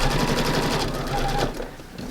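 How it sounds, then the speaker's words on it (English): A sewing machine set to automatic needle-down runs steadily through fabric with a fast, even mechanical chatter. It slows slightly near the end as it turns a corner. "I've got my sewing machine on automatic needle down"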